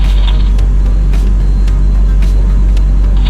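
A car drives slowly along a forest road in the North Maine Woods, a steady loud low engine and road rumble filling the whole stretch with faint rattles above it and no talking.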